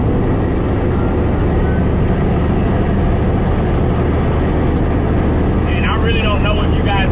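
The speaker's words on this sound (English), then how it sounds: "I know how loud this truck is" A dump truck's engine roars steadily and loudly while driving on the highway, a dense unbroken drone with a faint higher whine near the end.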